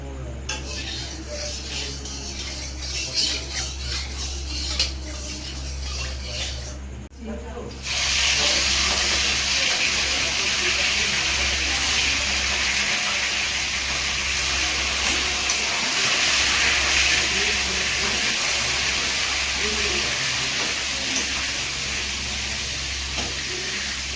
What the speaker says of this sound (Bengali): কড়াইতে তেল দিয়ে দিয়েছি, তেলটা গরম হয়ে গেছে প্রায়, এবার মাছগুলো ভাজবো।